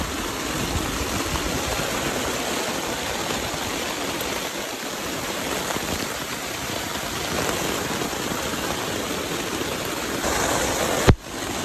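Heavy, steady rain pours down continuously on a campsite at Malagundi Point, Lobo, Batangas, a dense roar of drops with a single sharp knock near the end.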